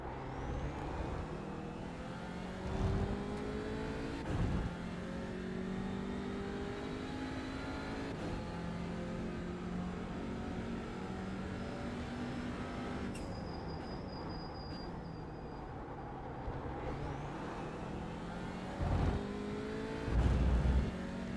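Kia TCR race car driven around the Spa circuit in the iRacing simulator, its engine droning continuously and changing pitch through gear shifts, with a few louder bumps and thuds along the lap.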